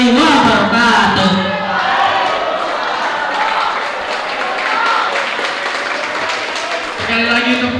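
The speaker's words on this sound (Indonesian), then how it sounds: "Sekali lagi tepuk tangan yang meriah untuk peserta Andi Gunanda" Audience applause at a school language-month speech contest, a sustained wash of clapping from a crowd with a few shouts mixed in, loud throughout while voices are heard over it at the start and end.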